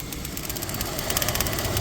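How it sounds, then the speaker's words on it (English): A Jeep Wrangler engine with a head gasket leak runs steadily just after being started, a dense continuous idle rumble with a faint rhythmic ticking throughout, close and fairly loud, with no voices. "So I just turned on the engine."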